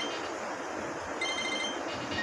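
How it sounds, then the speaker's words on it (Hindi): A mobile phone rings indoors at home, its thin electronic ringtone tones rising faintly above a steady wash of broadband background noise, with no voices. "बार बार फोन आ रहे हैं।"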